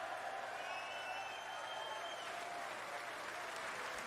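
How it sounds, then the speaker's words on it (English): Snooker crowd at the 2023 World Championship final applauding and cheering Mark Selby's 147, a steady wash of clapping held throughout, fairly distant and even, with faint whistles over it. "Big cheer in the crowd"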